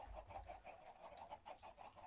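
Soft rhythmic clucking of chickens in a Minecraft-style video game, repeated short calls at an even pace, faint and with no speech.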